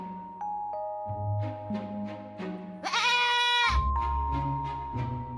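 Sheep bleat in several drawn-out, wavering calls over a steady tonal background, close and moderately loud, with one brighter, strained cry in the middle.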